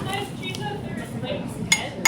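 Butter being mixed into a squash and apple mixture in a bowl, with soft scraping and then a couple of sharp utensil clinks against the bowl near the end, a voice faintly in the background.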